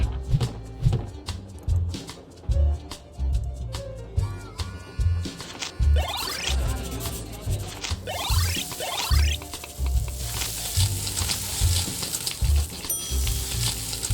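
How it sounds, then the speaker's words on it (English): Food sizzles and fries on the grill in the video game Diner Dash, a steady crackling wash broken by light taps and clicks, continuous and fairly close throughout. "Like when you put the orders in, all the sizzling sounds."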